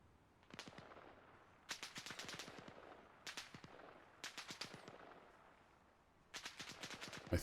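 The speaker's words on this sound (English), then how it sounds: "I think they're shooting in the general direction" Enemy gunfire crackles in the military shooter ArmA Reforger. Several rapid automatic bursts ring out a moderate distance away, separated by short pauses.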